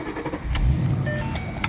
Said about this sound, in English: I could probably start up the engine